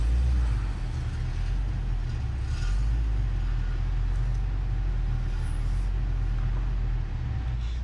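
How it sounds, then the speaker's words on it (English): A 1990s Ford Ranger pickup on a short test drive gives a steady low engine and road rumble, heard continuously from inside the cab at moderate volume. "here you can see I took it out for a short test drive."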